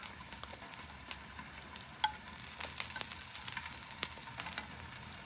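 Eggs and melting cheese sizzle steadily on a flat top grill. A continuous close hiss is marked by occasional sharp spatter pops, with no voices.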